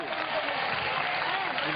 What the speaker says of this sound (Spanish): os pido un fortísimo aplauso para José